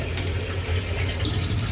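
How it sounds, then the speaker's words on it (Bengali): A small splash of water poured into a pan of spices cooking for a chicken curry gives a steady, close rush of running water that lasts throughout. "অল্প একটু পানি দিয়ে দিচ্ছি যেন মশলাটা পুড়ে না যায়।"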